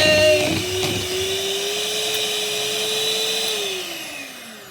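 An electric hand whisk beating cake batter for a sponge filled with butter icing and jam, a steady motor whine held close and loud throughout before slowing and dropping in pitch as it winds down at the end.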